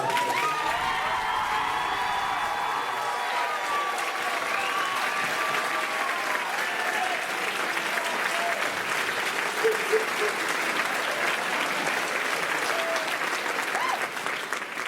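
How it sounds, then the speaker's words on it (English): Sustained audience applause fills a spring concert hall, dense and steady clapping from a large crowd with a few scattered cheers and whoops, continuing at even loudness throughout. "Please give a huge round of applause to Dan Chavarria for"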